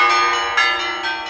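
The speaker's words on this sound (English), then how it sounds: "Nearby, the Church of Agia Paraskevi rang its bells in support of the network called ERT." Church bells at the Church of Agia Paraskevi in Greece ring out loud and close, metallic strikes with long shimmering overtones overlapping in a steady peal.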